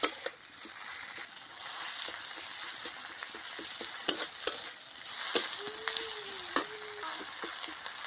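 Ginger-garlic paste and chopped onion fry in hot oil for a country chicken dish, giving a loud, steady sizzle with occasional sharp taps of a stirring utensil against the pan and a brief faint whistle near the end.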